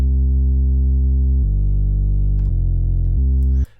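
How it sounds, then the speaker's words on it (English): A sustained synth bass from the Diva preset BTD Vision BS Sub 2 holds steady, loud notes that shift pitch a few times across the clip before cutting off abruptly near the end. "the one bass line I use in every single production is a bass line from Diva."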